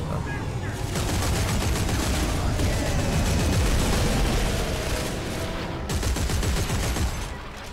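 Dense, sustained gunfire and explosive booms roar through a Dead Space 3 demo, a loud continuous barrage of rapid shots with heavy low-end impacts that barely lets up across the whole stretch.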